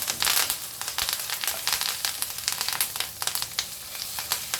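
Steak frying in a pan with thyme and rosemary, a loud close sizzle of dense crackling bursts that pulse unevenly throughout, with no voices.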